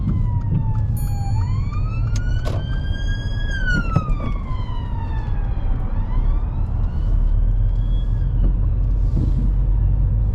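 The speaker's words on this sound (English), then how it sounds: "give way to an emergency vehicle that was approaching behind us" A siren from an emergency vehicle approaches from behind a car on the road, loud wailing tones rising and falling over steady engine and road rumble inside the cabin.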